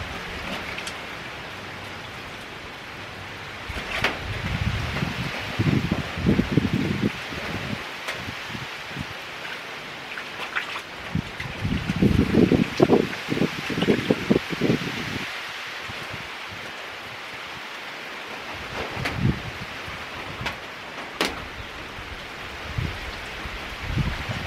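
Rain falls steadily outdoors in a cold setting, a continuous soft patter and rustle with heavier bursts of drops and nearby rustling, no talking.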